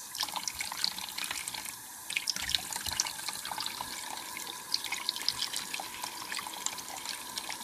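Warm tap water runs steadily into a sink for a bearded dragon's bath, a close, continuous splashing stream with small drips and gurgles.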